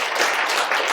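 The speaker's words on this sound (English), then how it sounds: "Round of applause." A short burst of steady audience applause at a real estate investing talk, close and fairly loud, dense clapping with no voices.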